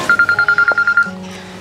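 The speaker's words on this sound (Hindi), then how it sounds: "पता ना किसका फोन आ रहा है" A telephone rings nearby with a loud, rapid train of about ten electronic beeps. A single sustained tone follows, heard alone in an indoor room.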